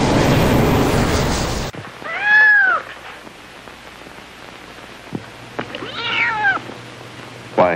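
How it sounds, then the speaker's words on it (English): A kitten meows twice, separated by a few seconds of quiet, after a loud burst of noise at the start; the meows are clear and fairly close, with no talking. "here is a kitten with four little paws"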